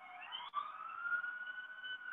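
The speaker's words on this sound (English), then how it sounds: "as the ambulance rolls by on my street, apologies." An ambulance siren passes along a residential street, a sustained wailing tone that slides gently in pitch, moderately loud and continuous, heard on its own without speech.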